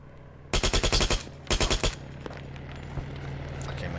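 M4 SOPMOD rifle fire in the Arma 3 video game: two rapid automatic bursts, the first longer and the second shorter, loud and close, followed by a faint single report against quiet background hum.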